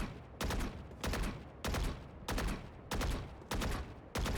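Gunfire in a video game aim-training session, seven evenly spaced loud shot bursts roughly every half second or so, each a sharp crack with a short tail, close and without talk.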